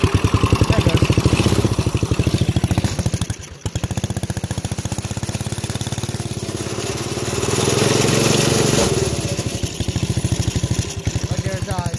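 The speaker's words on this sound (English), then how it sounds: "It runs for a little bit, then dies." Small mini racer engine running rough and loud with a rapid sputtering beat, briefly faltering midway before picking back up, close by and continuous.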